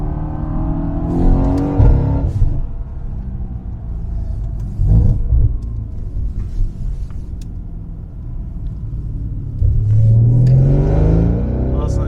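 A Mercedes C63s with the Brabus package and an IPE exhaust revs hard several times, its loud, deep engine roar rising in bursts between rumbling lulls.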